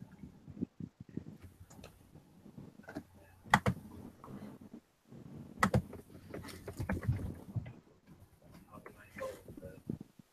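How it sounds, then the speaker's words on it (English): Laptop keyboards click in a group meeting, soft scattered keystrokes and taps heard under frequent overlapping conversation. "Everybody's clicking on their laptops."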